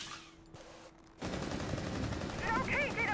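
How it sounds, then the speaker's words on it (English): Gunfire in Rainbow Six Siege during a tactical round, a sudden burst of loud shots breaking in partway through and continuing as sustained firing, with voices talking over it. "Oh, taking fire."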